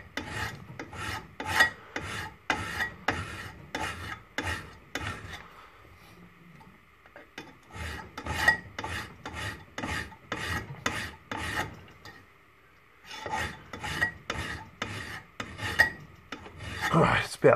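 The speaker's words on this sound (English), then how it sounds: "there's a whole heap of shavings coming off already" A hand file rasps repeatedly across hard double-bevel Tusker Concorde broadhead blades, close and crisp in quick rhythmic strokes, with short pauses between bursts of passes.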